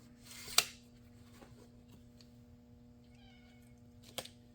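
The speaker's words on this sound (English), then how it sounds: "It's Millie, she's the shop cat" A shop cat in a welding and fabrication workshop meows a few soft times in a quiet room, with faint scattered clicks and a steady low hum.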